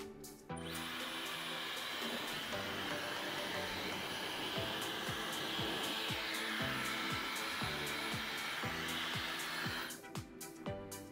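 Hair dryer powered by an EcoFlow River 600 portable power station, running on low heat and low fan with a steady whirring blow that starts and stops abruptly, with faint clicks at the ends.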